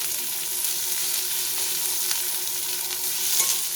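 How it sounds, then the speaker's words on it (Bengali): Chopped onions fry in hot oil with nigella seeds and curry leaves, giving a continuous, even sizzle with faint crackles and occasional soft stirring sounds, close and unbroken. "পেঁয়াজ কুচি দিয়ে একটু ভেজে নেব।"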